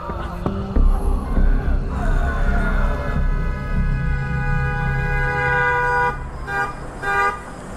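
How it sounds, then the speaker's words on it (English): A car horn blares in long sustained honks over rumbling engine noise, loud and close, with a few shorter toots near the end. "The blaring sound of a car horn"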